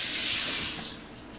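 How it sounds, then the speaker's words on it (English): Tap water runs steadily as hands are washed beneath it in a kitchen sink, a loud, close, broadband splashing hiss that eases slightly toward the end, with no voices over it. "Need to wash my hands."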